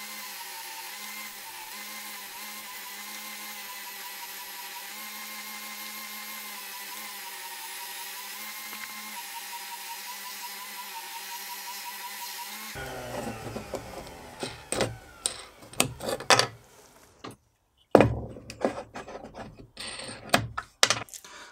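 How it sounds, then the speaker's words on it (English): A steady electric whir runs for a while, then gives way to irregular scraping and rasping strokes of sanding on wood, close up. "So let's do some sanding."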